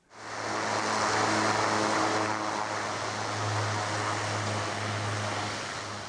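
A propeller airplane flying during the Kathmandu blockade in Nepal, a steady droning engine hum with a low tonal buzz that stays loud and continuous throughout, with no voices.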